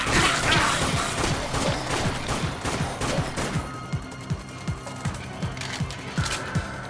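Rifle fire in the zombie shooter Dead Nation: Apocalypse Edition, a steady rapid stream of close, punchy shots that thin into spaced single cracks, mixed with crashes and clattering impacts and no talking.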